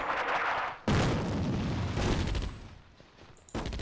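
Artillery barrage in the North Africa wargame Attack at Dawn: North Africa, loud booming salvos of gunfire and explosions arriving in several heavy bursts with brief gaps between them.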